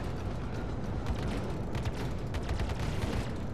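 Missiles launching from a ship in Star Citizen, heard as a dense, loud mechanical rattle and rumble with rapid clattering bursts running steadily throughout, no speech.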